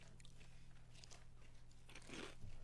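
Crunchy honey Dijon kettle potato chips bitten and chewed close up, giving a steady stream of crisp crackling crunches with a louder burst of crunching near the end, over a low constant background hum.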